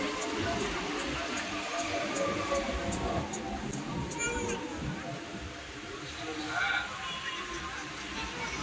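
Inside the carriage of a passenger train bound for Vrindavan, seen from a window seat, a steady low rumble with faint rhythmic clicking runs throughout while people talk over it.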